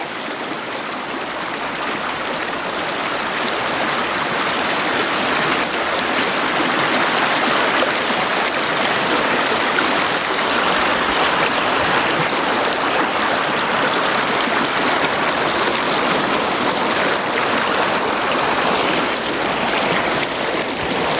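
Steady rushing of river water flowing over rocks, close and continuous with no voices, recorded from within the stream on a calm nature walk.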